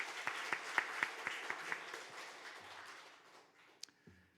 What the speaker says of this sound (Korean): 우리 교사들을 위해서 축복의 박수를 드리겠습니다